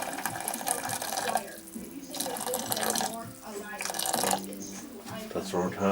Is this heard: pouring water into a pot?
yes